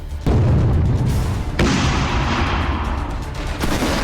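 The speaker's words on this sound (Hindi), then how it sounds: "बम गोलों की बारिश हो रही है।" Heavy artillery booms from shelling in the Russia-Ukraine war roll continuously, loud and dense, with a fresh blast about a second and a half in and rumbling explosions throughout.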